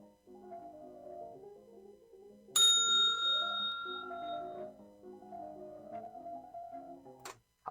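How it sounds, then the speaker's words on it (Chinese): A bright synthetic bell ringtone chimes once and rings out for a couple of seconds over a soft melodic background tone, with a small tick near the end; no speech. "准备了一个铃声。"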